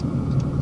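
A repaired car engine runs steadily from inside the cabin while driving, a low continuous hum with no talk.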